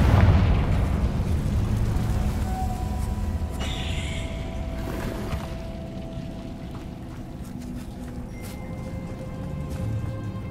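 A Confringo blasting spell explodes in the Hogwarts Legacy game with a loud, heavy boom that fills the scene, then settles into a dense rumble that slowly fades.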